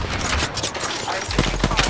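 Rapid automatic gunfire in the shooter game Apex Legends, a close burst of sharp repeated shots that grows denser and louder toward the end.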